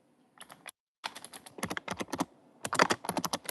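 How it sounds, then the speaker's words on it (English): Typing on a computer keyboard close by, with quick bursts of clicking keystrokes separated by brief pauses, no voices over it. "The typing."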